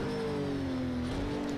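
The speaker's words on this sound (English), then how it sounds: "Shifting down into first gear there, unsettled the rear slightly" An Acura NSX GT3 race car in the racing game Project CARS downshifting into first gear, its engine note sliding downward in pitch and then settling, loud and up close with no voices.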